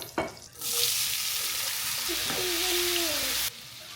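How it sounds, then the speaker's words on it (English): Vegetables, including onion and jalapeño, hit melted butter in a pan and sizzle loudly and steadily up close, with a stirring scrape partway through before the frying drops back to a lower hiss. "Okay, now we're gonna let this melt. And we're gonna add our veggies."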